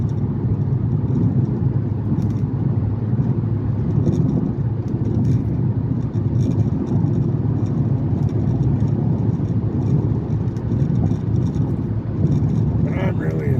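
Steady loud road and engine rumble from a car cruising on a highway at around 70 to 75 mph, a continuous drone with no breaks throughout.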